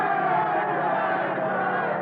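Around 15,000 soldiers yelling and cheering together as a pilot comes in, a steady, dense crowd roar rendered as a radio drama effect, held at an even level throughout.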